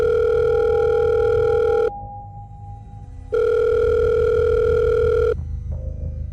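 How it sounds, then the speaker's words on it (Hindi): A phone ringing in a pocket gives two long, loud electronic tones with a steady pitch, separated by a short gap, over a low rumbling background. "पॉकेट में रखा उसका फ़ोन दोबारा बजा"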